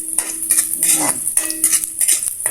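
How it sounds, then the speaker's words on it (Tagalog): Fish being sautéed in a pan until browned for ginataang tambakol, with steady sizzling broken up by repeated scraping and stirring strokes of a utensil, close and fairly loud. "Gigisa natin ito hanggang sa mag-brown mga sis."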